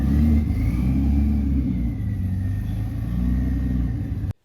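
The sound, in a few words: Porsche 935 race car engine revving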